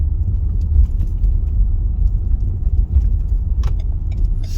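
A manual car driving in traffic just after a shift into second gear: a steady, close, low engine and road rumble inside the cabin, continuous and fairly loud, with a few faint light rattles and no talking.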